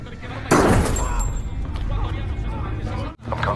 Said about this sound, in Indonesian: satu kesalahan kecil membuat tembakan terdengar